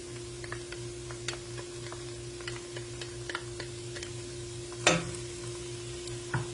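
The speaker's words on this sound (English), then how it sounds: "And then I'm going to add in 4 cloves of minced garlic." Minced garlic sizzles gently in a soup pot, a faint continuous crackle with scattered small pops and a louder clatter near the end, heard close with a low background hum.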